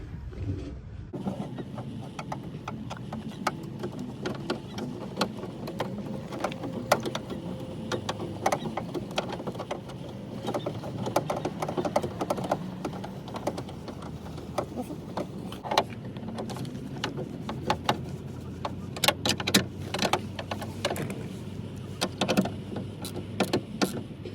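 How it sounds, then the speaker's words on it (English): Faint metallic clicks and ratcheting sounds come at irregular intervals as three bolts are put back on a Honda Civic side mirror, with quiet background noise throughout. "Now you could put back in the 3 bolts."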